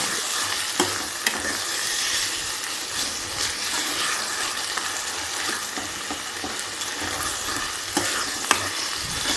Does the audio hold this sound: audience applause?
no